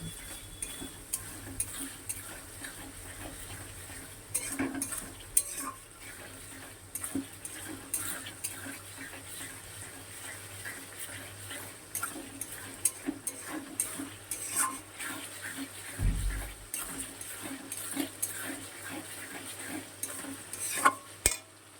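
Spice paste with garlic paste stirs and sizzles softly in a pan for chicken curry, with steady scraping of a spoon, occasional metallic clinks of utensil on pan, and low frying hiss throughout.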